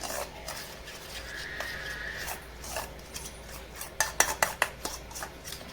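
A spoon stirring a homemade soap mixture with rose petals in a bowl: light scraping and swirling, then a run of sharp clinks against the container near the end, close and alone without talking.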